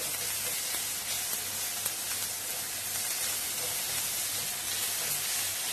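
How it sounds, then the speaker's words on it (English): Crushed garlic, carrot and onion sizzling in a pan for a Moroccan chicken risotto, an even, dense frying hiss from start to finish, close and steady, with only faint stirring ticks and no talking. "I just chucked in 1 tablespoon of crushed garlic. I'm going to give that a stir."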